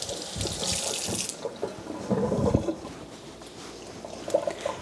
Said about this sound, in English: I'm going to wash my orange before I do that though